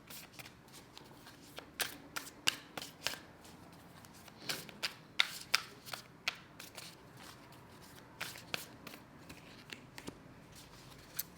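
Deck of oracle cards being shuffled by hand, a close, quiet run of crisp riffling flicks and snaps repeating in bursts with short pauses between.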